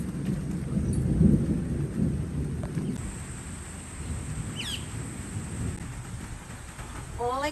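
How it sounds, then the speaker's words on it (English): Steady rain falling outdoors during an afternoon storm, a dense hiss with a low thunder rumble swelling early, and birds chirping faintly over it. "Oh, raining."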